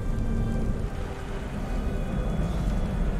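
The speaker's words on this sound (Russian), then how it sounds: "О, чертов дождь. Он когда-нибудь перестанет идти?" Steady rain pours throughout in the video game Beyond: Two Souls, a dense, even hiss of drops on surfaces with no break and no voices.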